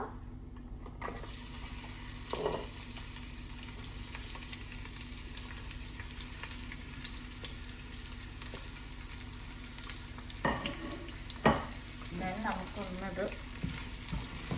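Sliced onions dropped into oil that has not yet fully heated, for a Kerala-style fish mango curry, giving a steady low sizzle throughout with occasional louder clatters of stirring near the end.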